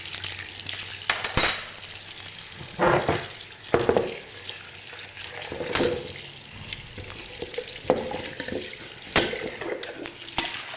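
A sponge and a wire scrubber work over dishes under running water, giving close, irregular scraping and splashing bursts against a steady faucet hiss.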